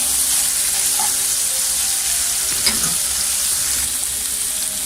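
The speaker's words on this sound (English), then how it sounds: "So I will fry it a little bit, and then slowly add all those spices." Marinated sardines fry in a fiercely hot pan, a steady loud sizzle and crackle running unbroken throughout, with a brief clink partway through.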